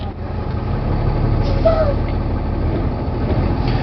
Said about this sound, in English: We are going to put the vehicle in drive, and we're going to pull against the parking brake